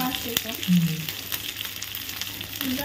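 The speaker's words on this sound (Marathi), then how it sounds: "गॅसवरच तडका द्यायचा" Spice tempering for chili chicken sizzles in hot oil on a gas stove, a loud close crackle with a brief stir and clink, continuing steadily without speech.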